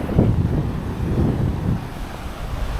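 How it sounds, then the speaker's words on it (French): Strong wind buffets the microphone in low, rushing gusts, with a faint wash of surf behind it and no one speaking. "Regardez, il y a pas mal de vent."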